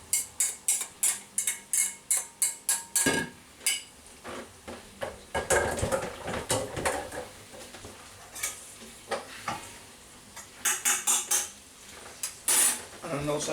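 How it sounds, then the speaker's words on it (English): Beans being tipped into a slow cooker, a run of sharp rhythmic clatters at first, then irregular rattling, knocks and shuffling with a few more quick bursts near the end, close and moderately loud. "put the beans into a slow cooker."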